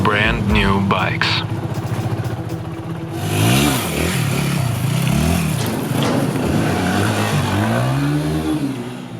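Brand new motorcycles on a Yakutia Road of Bones moto tour toward Oymyakon rev and idle nearby, engine pitch swooping up and down in loud overlapping bursts, with a voice speaking over them.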